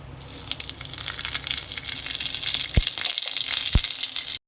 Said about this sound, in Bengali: ফোড়নটা লাল হয়ে ভাজা হয়ে গেছে।